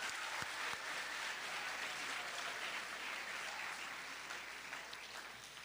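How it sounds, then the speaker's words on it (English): Faint, distant audience applause in a middle school eighth grade recognition ceremony, a steady wash of clapping that slowly tapers off, with no speech. "let's give him a round of applause."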